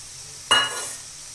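Grated coconut tipped into a pan of frying onions for a coconut palya, a single soft sizzling burst that flares up and fades within a second, close and alone.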